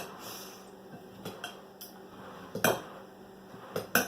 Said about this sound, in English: Stirring it all up.